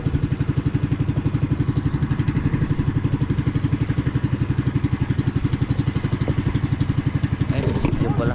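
A motorcycle engine with a clogged carburetor idles close by with a rough, uneven, pulsing chug that stays steady for several seconds.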